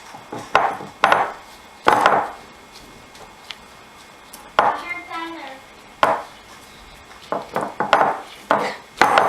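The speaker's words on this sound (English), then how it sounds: "So we're just pressing down the crust right now." A lemon bar crust being pressed into a baking pan, heard as irregular clunks, scrapes and taps against the pan in a kitchen, with some quiet background noise between the bursts.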